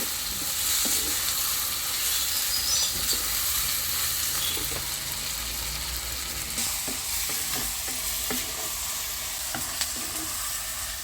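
Whole garlic cloves frying in oil for a village-style cumin kuzhambu, a dense, steady sizzle throughout with faint occasional stirring taps, close and continuous with no talking.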